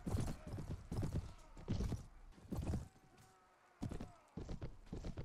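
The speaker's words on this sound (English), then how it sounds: "Horses, horses everywhere." Horses gallop in a chaotic medieval cavalry battle in the Mount & Blade video game, with loud repeated hoof clatters in uneven bursts and a brief lull midway.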